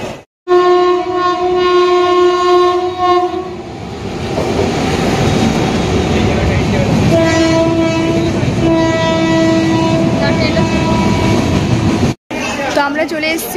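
A train pulls into a station near Dakshineswar with a loud, sustained horn blast, then a second horn call over the rumble of railcars. The sound is close and loud, with voices from the platform mixed in.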